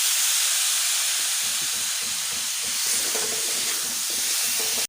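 Tomatoes tipped into hot spiced oil in a kadhai set off a loud, steady hissing sizzle, with faint scraping of stirring underneath.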